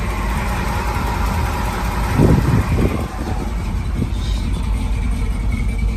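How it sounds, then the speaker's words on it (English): Pickup truck fitted with an Edelbrock carburetor idles steadily, a loud, close, continuous engine rumble with a brief swell partway through; no talking over it. "Just a nice running truck."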